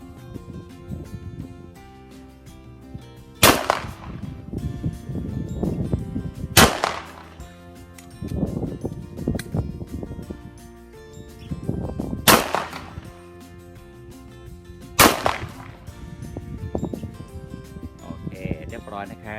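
Sharp G22 rifle shots ring out at a shooting range, four loud cracks spaced a few seconds apart, with people talking steadily between and under them.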